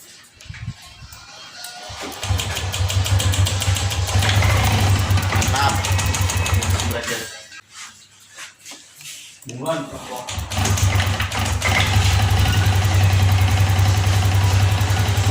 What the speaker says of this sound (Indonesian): Oke teman-teman, motor di sini sudah menyala.